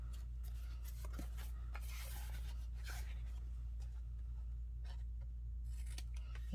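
Scissors cut through fake leather for a journal cover with faint, close snips and rubbing, quiet over a steady low hum.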